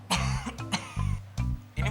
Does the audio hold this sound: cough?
yes